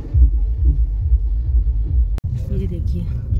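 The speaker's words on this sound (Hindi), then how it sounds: "अब हम थोड़े इधर स्टक हो जाएंगे" Low engine rumble of street traffic stuck behind a wedding baraat procession in Vadodara, a steady heavy drone with a brief dropout, voices chattering faintly within.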